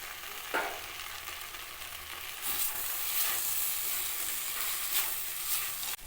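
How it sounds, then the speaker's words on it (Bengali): Potato, eggplant and broken lentil dumplings (bori) stir-fried in a pan, a quiet continuous sizzle with a few sharp spatula scrapes and clinks, no speech. "আলু বেগুনটা দিয়ে দু মিনিট ভাজা করে নিয়েছি এবারে ভেজে রাখা বড়িগুলো একটু ভেঙে ভেঙে দিয়ে দেব"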